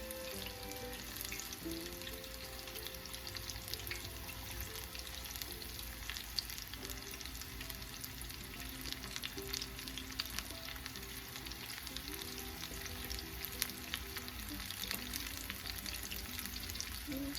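Oil sizzles and crackles steadily throughout, a continuous close frying hiss with no voices.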